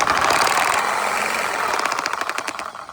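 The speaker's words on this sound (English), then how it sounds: "Sawzall attachments for shaking paint, especially spray paint cans" A reciprocating saw fitted with an attachment shakes a spray paint can, a loud, steady, rapid mechanical buzzing and rattling that runs without a break for the whole clip.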